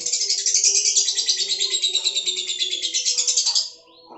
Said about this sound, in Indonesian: Ini udah mulai enak lah burungnya.